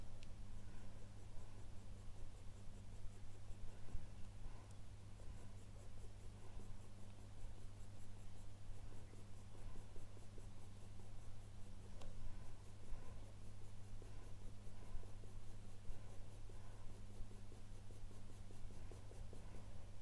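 A 2H pencil drawing on paper, heard as steady, quiet, close scratching and scraping strokes in continuous irregular bursts over a constant low hum, with no talking.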